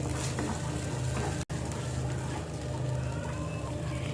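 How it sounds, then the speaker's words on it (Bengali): Spice masala for a vegetarian matar paneer is sautéed in a pan, giving a dense, continuous sizzle with stirring scrapes and a brief break in the sound near the start. "সব কিছুকে ভালোভাবে কষিয়ে নেব মশলাটাকে।"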